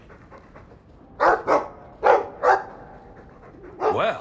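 A dog in the video game Dragon Age 2 gives two pairs of sharp barks, fairly close and clear. Someone speaks briefly in the game, and a final yelp or whine follows the barks.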